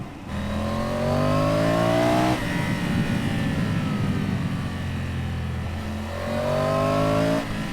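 A Triumph Tiger 850 Sport motorcycle engine revs hard, pitch sweeping upward twice, with a steady loud drone between the climbs, close and with no talk over it.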